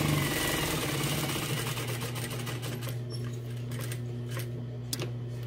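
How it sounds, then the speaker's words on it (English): Sewing machine stitching around the edge of a quilted wall hanging, running in a steady continuous hum with fast rhythmic needle clatter, close and alone without talk. "now I'm gonna continue stitching the rest of it all the way around"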